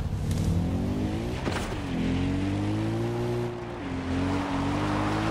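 A vehicle's engine drones and revs steadily through Far Cry 4's game world, a loud continuous motor hum with rising and falling pitch shifts as it drives, shifting gears, with no talk over it.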